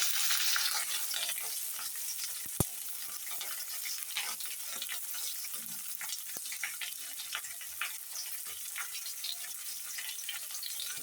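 Chopped onion sizzles in hot oil over tengra fish in a pan, a steady close crackle with occasional stirring clinks and knocks and no talking.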